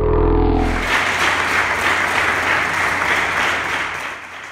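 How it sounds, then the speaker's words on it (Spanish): Sustained audience applause after a student dance performance at a university arts and culture center, a dense, steady wash of many hands from a fairly close crowd, beginning just as a low tone cuts off and fading slightly at the end. "Entre aplausos"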